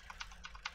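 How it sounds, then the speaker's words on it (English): Rapid, light keyboard clicks, four or five distinct presses in quick succession, faint and close. "you can probably hear that because I have a loud keyboard"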